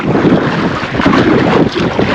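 Strong gusty wind blows across open water near the Bhavanisagar reservoir, roaring and buffeting the microphone in loud, continuous surges with no speech.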